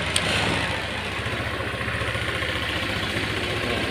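A Honda PCX150 scooter engine, freshly fitted with a replacement cylinder block, idles steadily nearby, its low, even putter continuing without pause.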